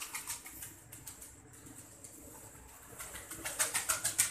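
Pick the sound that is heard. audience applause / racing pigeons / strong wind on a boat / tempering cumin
racing pigeons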